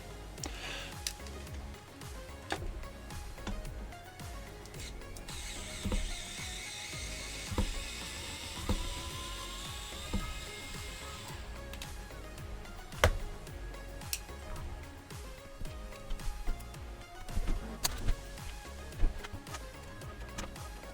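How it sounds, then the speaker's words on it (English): Small screws being unscrewed from the bottom of a Yaesu FT-60E handheld radio, with faint repeated ticking and clicking of the tool, quiet and close with no talking. "There are 4 screws in total to remove and I start with the 2 on the bottom."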